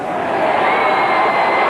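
A big stadium crowd roars steadily after a goal at an Australian rules football match in 1996 at the E.J. Whitten Oval, a dense, loud, continuous cheer with no break.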